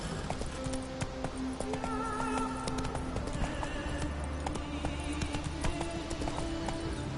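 Roach, a horse in The Witcher 3, gallops with rapid rhythmic hoofbeats and an occasional snort over a continuous game soundscape; no talking.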